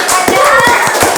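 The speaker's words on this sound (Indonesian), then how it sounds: "Tepuk tangan dulu." Several people clapping in quick, uneven rhythm, with a voice and other chatter mixed in close by.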